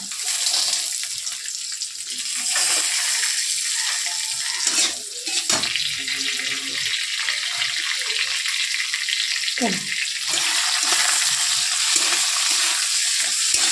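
Cashews and raisins sizzle in hot oil in a pan with a steady, loud frying hiss that continues throughout, with occasional stirring scrapes and no talking.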